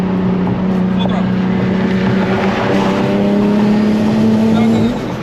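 Turbocharged Nissan 350Z engine held at full throttle, a loud droning roar with a steady rising tone, close and continuous before dropping off near the end, with voices briefly over it.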